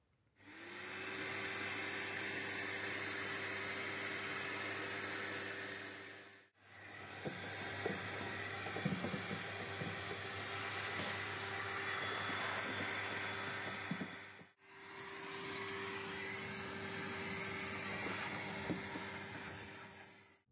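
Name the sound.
vacuum cleaner running in a van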